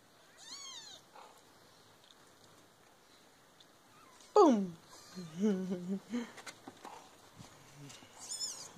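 Newborn kittens in a litter give several thin, high meows at intervals. The calls are close but fairly quiet, with soft rustling between them.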